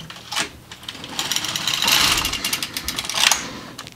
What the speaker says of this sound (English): We start with the needle close to the carriage, pull all the way out, and knit 1 row.